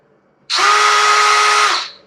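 A power drill whirs at steady speed for just over a second while aerating beer before the yeast is pitched, starting abruptly and winding down, loud and close in a quiet room.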